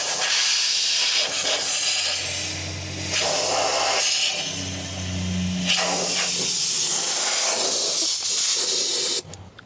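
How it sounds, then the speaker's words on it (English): Compressed air hisses loudly as it is forced back through a plugged hose on a 1975 Freightliner FLT truck, in several long surging blasts with short dips between them and an abrupt stop at the end. "So we're gonna try to blow air back through it."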